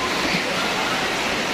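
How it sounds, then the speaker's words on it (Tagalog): Strong waves splashing at a warm-water swimming spot, a dense continuous wash of broadband noise, loud and close, with no voices. "Ang lakas ng alon, oh."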